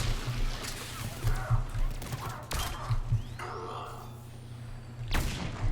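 Gunfire from Mass Effect 3 in a stretch of game combat, with repeated thumping shots and bursts layered over a steady low hum, plus a sharp louder blast near the end.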